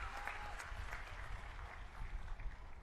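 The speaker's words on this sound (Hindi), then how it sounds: "एक बार जोरदार ताली बजा दीजिए," Applause from a crowd at a Gujarat election rally for the Aam Aadmi Party, a dense, steady clatter of many hands clapping at moderate distance with no voices over it.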